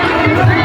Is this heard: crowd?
yes